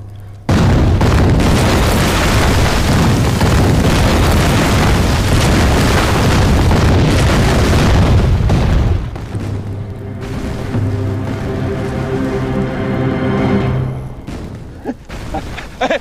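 Artillery shells exploding on an enemy artillery position in a war film, a dense roaring barrage of loud booms for about eight seconds that gives way to a lower rumbling aftermath.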